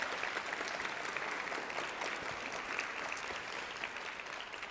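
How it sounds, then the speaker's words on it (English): Students and guests at the Hult Prize Finals 2019 at the University of Waterloo clap together, a soft, distant and even wash of applause that holds without a break. "Please give yourself a round of applause."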